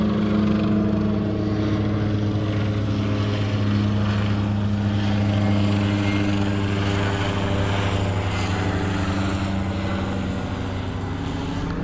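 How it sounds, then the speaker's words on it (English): A helicopter passes low over a shallow fishing spot on a cool morning, a loud steady engine and rotor drone with a fairly constant hum. "Helicopter coming right at us."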